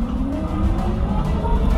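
Electric commercial vehicle with a manual gearbox pulling away in first gear, heard as a loud continuous drone of motor and road noise with a faint rising whine throughout, close and without talk.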